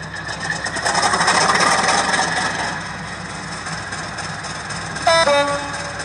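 Cavalex Class 56 model locomotive with a sound decoder gives a diesel engine drone, then a short two-tone horn blast near the end, close and steady, with no talking.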